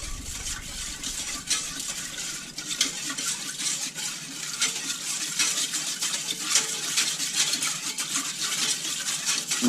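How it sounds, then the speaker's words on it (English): A whisk stirs a liquid brine of salt, brown sugar, molasses and black peppercorns in a bowl, producing a continuous close, swishing, sloshing rhythm with light clinks against the sides. "I'm going to whisk this."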